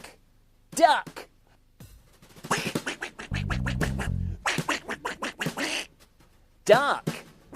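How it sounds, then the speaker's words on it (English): A duck quacks in a children's farm-animal programme, a few short nasal calls spread between bouts of cheerful adult talk, with a brief buzzy scratching noise partway through. "Look, duck."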